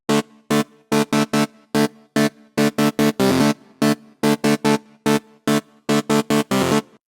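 Vintage-style hard house synth chord stabs, processed with delay, reverb and phaser, punch out in a rhythmic pattern of short, loud, bright hits with brief gaps and a few longer held chords, no voices.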